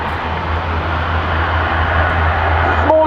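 A Casa CN-235 turboprop transport of the French Armée de l'Air, just landed at RNZAF Ohakea, roars loudly and steadily as its engines are pulled into reverse thrust, a broad continuous rumble close by with no talk.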